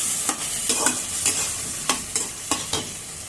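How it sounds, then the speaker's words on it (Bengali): Spice mix with poppy seed paste is stirred in a frying pan for a vegetarian chhana bora curry. A steady sizzle runs throughout, and a spatula scrapes the pan in sharp, repeated strokes. No one speaks. "পোস্ত বাটা দিয়ে ভালো করে নেড়ে ছেড়ে"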